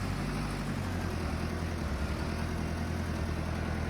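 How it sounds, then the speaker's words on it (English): A tractor engine idling in Farming Simulator 22, set in Alaska: a steady, low, throbbing drone that holds evenly throughout at moderate volume, with no revs or talk over it. "Shut the tractor off."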